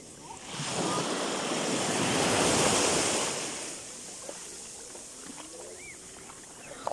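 A sea wave washes onto the sandy beach of the Kleopatra Sahara Hotel in Alanya, Turkey, swelling into a soft, broad rush of surf and then fading to a quiet lapping with faint distant sounds.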